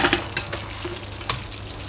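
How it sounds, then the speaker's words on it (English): Chicken wings dropped into bubbling buffalo hot sauce in a pan, faint sizzling and bubbling punctuated by a few sharp splashes and clinks as pieces land. "Put all the wings in."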